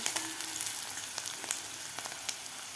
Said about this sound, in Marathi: व्यवस्थित गोल्डन कलर होईपर्यंत आपल्याला कांदा परतून घ्यायचा आहे